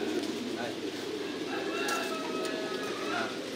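Pigeons on a pigeon farm coo continuously, many birds overlapping into a dense, steady murmur of soft throaty calls with a few clearer individual coos rising above it.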